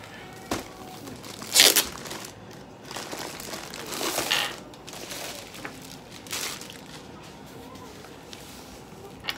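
A little sticker is handled close up with sporadic crinkling and crackling of paper or plastic backing, a few louder rustling bursts separated by quieter pauses.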